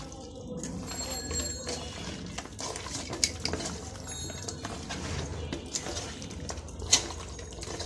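Spice masala mixed by hand in a metal pot, heard as continuous close squelching and scraping with occasional sharp clinks against the pot, with no talking.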